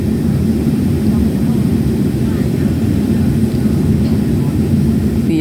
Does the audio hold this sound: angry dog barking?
no